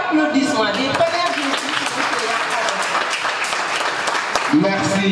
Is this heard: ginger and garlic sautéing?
no